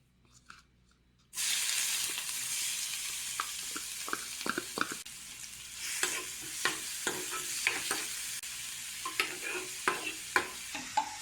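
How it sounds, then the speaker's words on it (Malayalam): Crushed onion and garlic hit hot coconut oil and burst into a sudden loud sizzle after a quiet start. A steady hiss continues while a spoon taps and scrapes the pan at intervals. "നമുക്കിനി ഇതിലേക്ക് നേരത്തെ ചതച്ച് വെച്ചിട്ടുള്ള ഉള്ളിയും അതേപോലെ തന്നെ വെളുത്തുള്ളിയും ഇതിലേക്ക് ആഡ് ചെയ്ത് കൊടുക്കാം"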